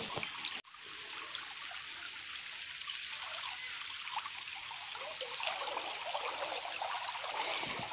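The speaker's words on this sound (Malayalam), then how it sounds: "ഇവിടെ ആയിരുന്നു വെള്ളം ചാടിയിരുന്നത് പക്ഷെ ഇപ്പൊക്കെ വെള്ളം നിറഞ്ഞുകൊണ്ട്" An overflowing brook rushes over what was once a small waterfall, a steady, close, broadband wash of flowing water that holds throughout after a momentary dip at the very start.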